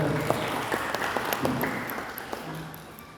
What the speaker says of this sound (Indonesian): kita berikan aplaus luar biasa untuk kita